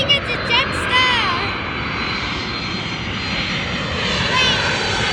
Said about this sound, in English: That was a UPS 767 cargo.